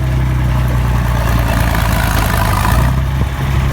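An IH Farmall 560 tractor engine pulls hard under brake load in direct gear, a loud, steady low rumble with strong firing harmonics holding constant for several seconds, a brief dip near the end.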